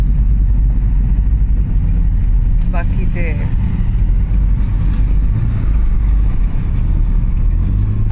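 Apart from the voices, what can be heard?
busy city road traffic, cars driving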